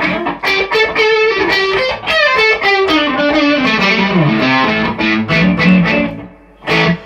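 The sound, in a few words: Telecaster-style guitar through OCD overdrive pedal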